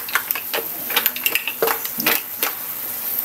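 Lumpia shanghai cooking in a pan, with scattered clinks of utensil against cookware and light stirring scrapes over a faint steady hiss, close and moderately loud.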